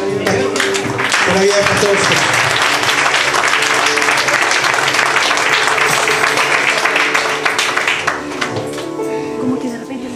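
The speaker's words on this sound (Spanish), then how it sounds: "Un aplauso al Señor." A church vigil congregation applauds as a pastor is welcomed, a loud, sustained roar of clapping with someone speaking over it and some music underneath, easing slightly near the end.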